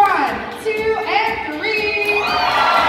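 An audience at a Six Flags dolphin show cheers, a mix of shrill children's shouts and crowd voices rising and falling in overlapping whoops.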